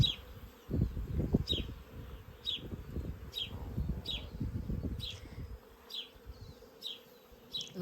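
Bees drone around a thriving beehive in a small urban food forest garden, a low close buzz rising and falling, while a bird chirps at regular intervals in the background.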